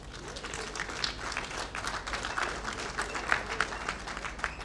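Audience applause at a customs book launch ceremony in Benin, a steady patter of many hands clapping at moderate distance, lasting throughout without voices over it.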